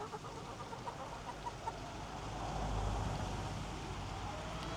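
Backyard hens give soft, low clucks in a short run near the start, close and fairly faint over steady background noise that swells slightly later on.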